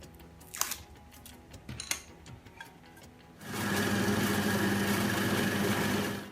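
A few clicks and knocks, then a steady loud mechanical whir of a drill press drilling wood, running continuously for several seconds.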